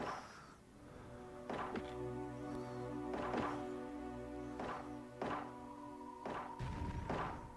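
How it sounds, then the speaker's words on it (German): A crew in the space colony game Space Haven opens fire on a walking bot: heavy, thudding impacts repeat about every second and a half over a droning, tonal background hum. "Alle einmal auf den Laufbot schießen."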